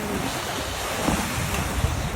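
Heavy storm surf at Santa Cruz roars as a broad, continuous wash of waves mixed with wind buffeting the microphone.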